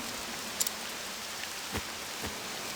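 Steady rain hisses continuously in the video game Octopath Traveler II, with a few faint thuds scattered through it. No one speaks.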